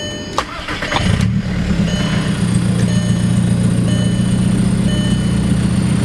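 A VW MK4 Jetta TDI diesel engine catches after a brief crank, then settles into a steady, loud, continuous drone heard from inside the car during a ride.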